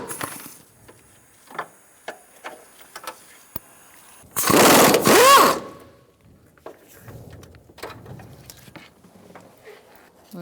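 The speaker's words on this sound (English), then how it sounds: "Using an extension and a 17mm socket, we're going to take out this bolt" A 17mm socket on an extension turns an engine mount bolt on a 2004-2009 Mazda 3 2.3L, with a sharp burst of ratcheting or power-tool whirring in the middle amid quieter metallic taps and clinks.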